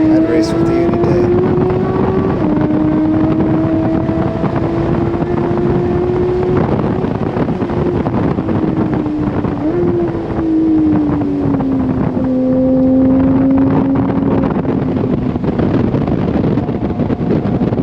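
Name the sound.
Porsche exhaust note passing a Ferrari on track day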